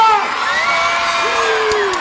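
Crowd at a live Orquesta Fórmula show cheers, whoops and yells loudly and continuously, with high shouted voices standing out over the steady roar for about two seconds.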